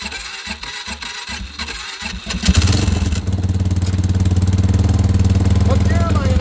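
A Polaris Sportsman 500 ATV in deep winter snow cranks briefly, then catches and settles into a loud, steady, rough idle right up close, with a voice briefly heard over it.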